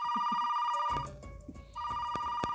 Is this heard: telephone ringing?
yes